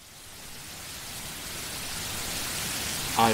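Steady rain falls at night, a dense even hiss that slowly swells in loudness, with a brief sharper tap or splash right at the end.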